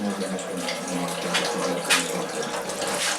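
Homemade apple and currant juice pours steadily from a juicer, a continuous close liquid trickle and splash with no speech.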